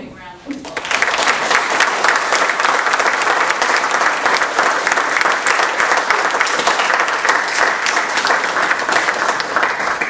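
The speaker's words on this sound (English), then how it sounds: "Now we can give them a big round of applause." Loud, dense applause from a large audience at an induction ceremony, starting abruptly and holding steady throughout, with crowd noise mixed in.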